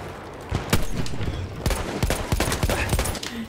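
Rapid bursts of gunfire from a Battlefield 1 battle, loud and close, with repeated sharp cracks and a dense volley in the middle.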